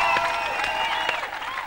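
A French TV studio audience bursts into applause and cheers welcoming a musician, a short dense burst with a tonal musical bed underneath.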